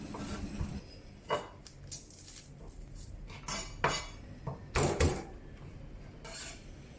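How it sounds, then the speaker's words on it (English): Two garlic cloves are lightly bashed in a kitchen while preparing bok choy and pork soup: a handful of short, close knocks and clacks at an uneven pace, with faint clinks between them and no talking. "Lightly bash 2 cloves of garlic."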